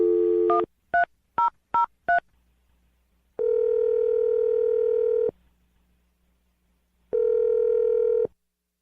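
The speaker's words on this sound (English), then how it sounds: "let's dial the phone number" A telephone number being punched in on a keypad: five quick touch-tone beeps in a rapid run, followed by two long ringback tones separated by silence, clean and close with no talking.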